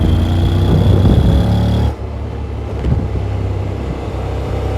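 A Honda Forza 750 scooter engine runs with a loud, steady low hum and harmonic drone, then drops abruptly to a quieter idle-like rumble partway through, with no voices.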